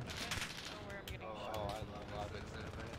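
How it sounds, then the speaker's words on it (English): Rapid video-game gunfire rattles in dense bursts of shots, fairly close, running beneath excited voices talking over the action. "He's shooting me."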